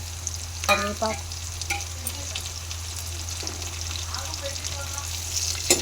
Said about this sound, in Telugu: వేసుకొని కాస్త ఫ్రై అవ్వనివ్వాలి